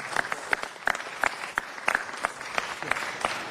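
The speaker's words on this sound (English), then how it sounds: "Give them a round of applause for filming in LA." Applause from an audience at a Los Angeles city council meeting, moderate clapping with distinct individual hand claps in an uneven rhythm, steady across the whole stretch.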